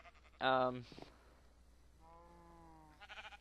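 Sheep in the Minecraft video game bleat in a loud burst near the start, followed by a longer, softer harmonic bleat that trails off, with another brief call at the end.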